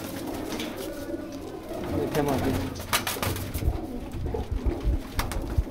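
Flying pigeons in a loft give low cooing calls and some rustling, with someone talking intermittently nearby.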